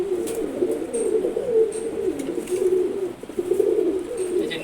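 A very active male Giribaz (Gola) pigeon coos steadily and close by, a continuous rolling murmur with slight rises and dips across several seconds, no talking.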